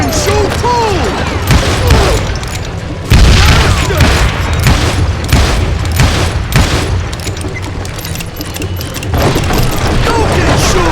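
Gunfire in the Western shooter Call of Juarez: Gunslinger, loud repeated booming shots and a rattling fusillade that go on throughout, with dense game effects layered beneath.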